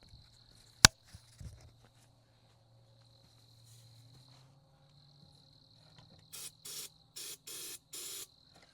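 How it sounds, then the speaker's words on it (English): Several short hissing bursts from an aerosol can of ether sprayed into a quad engine to help it start, in quick succession after a sharp knock and a quiet mechanical hum. "I'm gonna spray a little bit of ether anyway"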